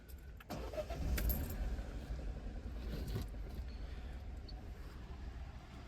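Car engine running at idle with a mobile mechanic working on it, a low steady rumble with a few clinks and brief louder bursts near the start, fairly faint throughout.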